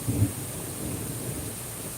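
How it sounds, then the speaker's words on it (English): Steady rain pours down during a thunderstorm, a constant hiss with a low rumble and a couple of soft thuds near the start; no one speaks. "I'm just going to be quiet for a minute and let the rain sound."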